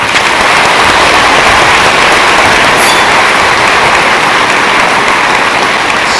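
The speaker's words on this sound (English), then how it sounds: "Let's give the speakers one more round of applause." A high school graduation audience applauds the speakers in a dense, sustained round of clapping that stays loud and even throughout, with no speech over it.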